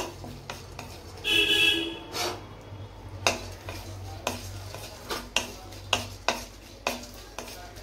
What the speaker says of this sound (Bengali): চার মগজটা ফুটছে, মানে চার মগজটা ভাজা হয়ে গেছে